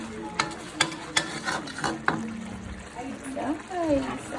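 Bacon and garlic frying in a pan with occasional stirring: a steady sizzle under several sharp utensil knocks against the pan, with a voice speaking over part of it.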